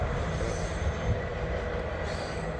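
A Norfolk Southern double-stack freight train rumbling past nearby as its last car goes by, a steady loud roar of wheels on rails with faint squeal, continuous throughout.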